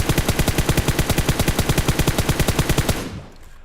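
Rapid video game gunfire hammers a target in a fast, even automatic burst of about twenty shots over three seconds, loud and close, ending abruptly with a brief fading tail.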